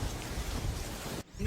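Heavy rain with a thunder rumble in a horror story soundscape, a dense roaring wash of noise that briefly drops out near the end before resuming.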